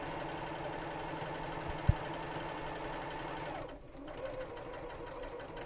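A sewing machine stitches a quarter inch from a fabric edge on a salvaged purse, its rapid mechanical chatter running steadily and up close, with a single sharp click partway through and a brief pause and change in tone later.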